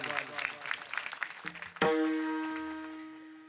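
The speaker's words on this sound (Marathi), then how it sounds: "टाळ्याचा आवाज वाजवा" A crowd at a Marathi kirtan claps in a short, uneven burst of applause, followed by a sustained ringing musical tone that fades away.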